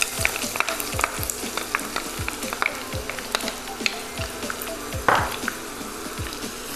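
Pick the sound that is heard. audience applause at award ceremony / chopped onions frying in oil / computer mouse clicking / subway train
chopped onions frying in oil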